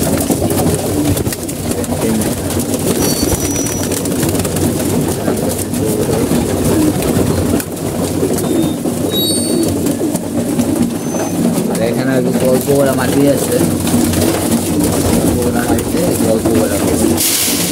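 Pigeons coo steadily in a busy, rolling chorus around three feeding trays of grain, while someone talks close by throughout.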